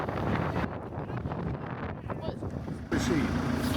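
Strong wind buffets the microphone at Dovestone Reservoir, a loud, steady roar with gusty swells that eases briefly mid-way and then surges again, with no talking heard.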